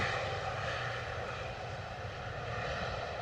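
An EasyJet Airbus A321neo airliner arrives from Istanbul, its engine roar a steady, broad rumble with no breaks.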